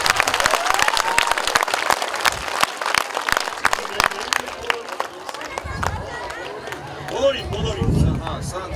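Audience applause at an Armenian song and dance festival honoring Ashugh Alik of Javakhk: a steady wash of crowd clapping that continues while a voice speaks over it, then thins out as crowd murmur takes over.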